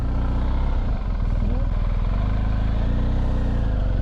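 A 2020 BMW R1250 GS HP motorcycle rides along dirt roads, its engine droning steadily and close with a continuous low throb and only slight changes in pitch.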